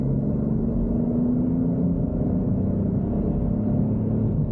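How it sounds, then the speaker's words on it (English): Small three-cylinder engine of a 2023 Ford Bronco running while driving, heard from inside the cabin as a steady, even low rumble with no road noise or talk. "That's the little 3 cylinders working right now."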